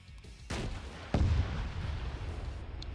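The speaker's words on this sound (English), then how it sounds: "Just had an RPG detonate short." A distant blast from a short-detonating RPG-26 rocket during a large online shooter event, two sharp booms with the second louder and rumbling, over steady low battlefield noise.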